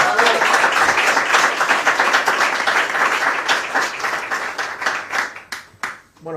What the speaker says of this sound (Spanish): Un aplauso fuerte para Jorge Gabriel.